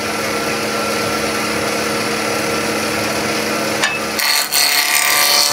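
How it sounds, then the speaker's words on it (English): A wood lathe running at around 2000 rpm during a turning session, giving a steady, loud broadband whir with a brief dip and shift in tone near the end. "turn the machine up, and I'm gonna be turning it around about 2000 revs on this project"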